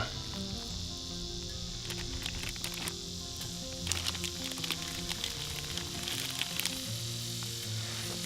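Bacon sizzles in a small 6 to 6.5 inch cast iron skillet on an overnight camping trip, a steady close crackle and patter of fat with outdoor insect chirping behind it.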